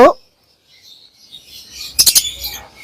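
Pet Fischer's lovebirds give a quick cluster of sharp, high chirps around the two-second mark, with a short bright note at the very start and quiet room air in between.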